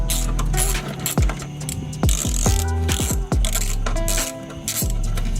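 A ratchet on an abandoned 1970 Dodge Charger R/T clicks in quick rhythmic bursts, with brief pauses between strokes, while removing a bolt; the metallic ratcheting is close and loud, with no talking.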